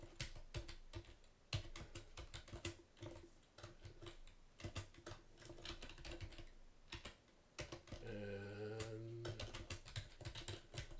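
Quiet, close computer keyboard typing as a Unix command is entered, brisk irregular key clicks throughout with a brief tonal hum near the end.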